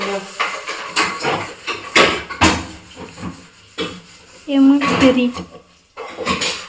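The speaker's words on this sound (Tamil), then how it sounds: "பாத்திரம் விளக்குறியம்மா?" Pots, pans and dishes being washed by hand at home, with clattering and rubbing scrapes scattered through ongoing conversation in Tamil, someone speaking close by between the clanks.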